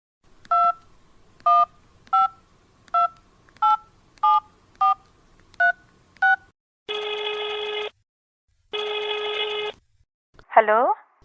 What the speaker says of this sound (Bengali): তাহলে এখনই আপাকে ফোন করে জানাচ্ছি